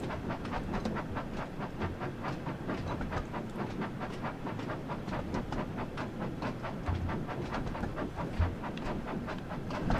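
A diesel shunter locomotive in Train Sim World, a British Class 08 or 09 type, runs steadily with a continuous low engine rumble and a rhythmic clickety-clack of wheels over rail joints throughout.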